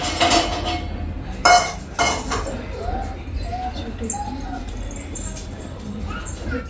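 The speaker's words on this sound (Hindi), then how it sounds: "बर्तन साफ करूंगी।" Pots, pans and cutlery clink and clatter continuously as dishes are washed in a hot home kitchen, with sharper knocks of metal on metal standing out close by.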